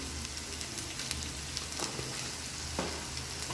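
Beef samosa filling seasoned with salt and cumin sizzles in a pan, a continuous close frying hiss with a few soft scrapes from stirring.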